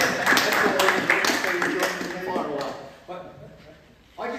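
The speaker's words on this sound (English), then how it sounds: "That deserves a round of applause." An audience claps at a military history lecture, scattered hand claps overlapping with talking voices and fading into quieter chatter.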